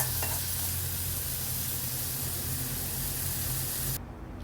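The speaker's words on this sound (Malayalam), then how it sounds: "ഈ വെളിച്ചെണ്ണ കൂടി ഒഴിച്ചിട്ട് ഇതൊന്ന് മൂപ്പിച്ച് കൊടുത്താൽ" An egg-curry masala mixture fries in coconut oil, giving a strong, even hiss-like sizzle with a low rumble beneath, close and continuous, cutting off abruptly near the end.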